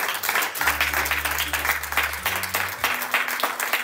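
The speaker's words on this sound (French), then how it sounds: "Applaudissons le Seigneur." A church congregation applauds during a French-language service, brisk crowd clapping throughout with a sustained low organ or keyboard tone underneath.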